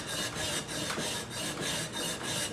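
A steel kitchen knife is ground back and forth on a sharpening stone. The steady, rasping scrape repeats in even strokes, loud and close, with no talking.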